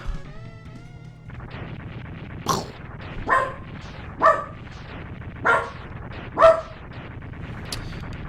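A dog barks five times at steady intervals, each bark sharp and moderately loud, over a continuous background of video game music and sound effects.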